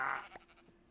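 A single short sheep bleat from the game Minecraft opens the moment, a brief nasal cry that quickly fades into quiet.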